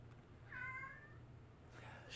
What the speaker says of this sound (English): that was a fucking stupid cat in the background